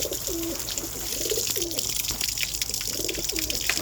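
Pigeons coo softly in repeated low, rolling calls a few times under a steady hiss of running water from a bird shower, faint and somewhat masked.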